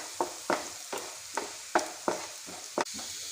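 Urad dal and chana dal sizzle in a hot pan with oil, stirred in sharp, evenly spaced scraping strokes about every half second over a soft crackling hiss.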